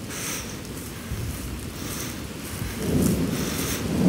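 Steady rain hiss with a low rumbling wash underneath, swelling a little louder toward the end; no voices.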